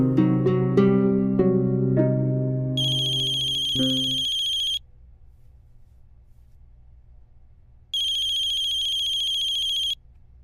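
A phone ringtone rings loudly in two electronic bursts, the first about two seconds long and the second following after a pause, over a low hum. Music fades out beneath the first burst.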